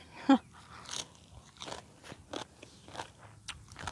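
Someone eats crunchy Lao green papaya salad close up, with a sharp first bite followed by a series of irregular crunching and chewing sounds.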